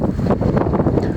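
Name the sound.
wind blowing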